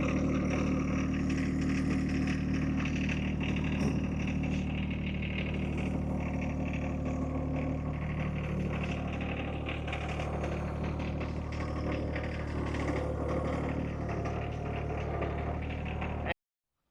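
A tractor's heavy engine runs steadily at a low rumble for a long stretch while driving, fairly constant in tone with some clatter, no talking.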